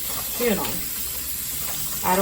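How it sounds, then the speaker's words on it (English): Cold water runs from a kitchen tap in a steady broadband hiss, moderately loud, while a person talks over it at the start and end. "I start by turning on my cold water"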